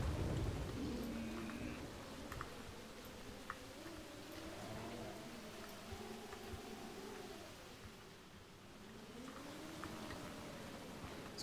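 A storm in Jurassic Park Operation Genesis: steady rain and rolling thunder with a low wavering rumble, moderately loud and continuous, with no voices.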